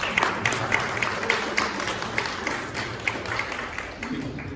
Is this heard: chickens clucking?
no